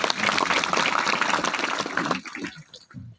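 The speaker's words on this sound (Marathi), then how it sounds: "टाळी वाजवा महाराजांचा" An audience claps loudly in sustained applause for a maharaj at a spiritual gathering, dense and steady at first, then fading out into a few scattered claps at the end.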